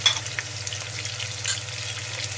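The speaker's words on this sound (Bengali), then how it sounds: "এগুলো আমি কষিয়ে নেব।" Cumin, ginger and garlic paste sautéing in a pan for prawn biryani, giving a close, continuous crackling sizzle with small pops and the scrape of stirring, with no voices.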